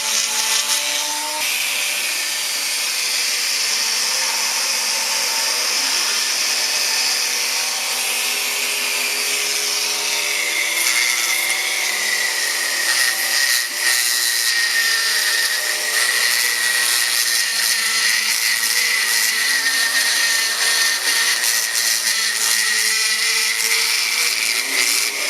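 A Fiat 850 Weber carburetor part is sanded with a steady, high-pitched whirring grind that runs continuously and close up, its pitch shifting slightly partway through, with no voices.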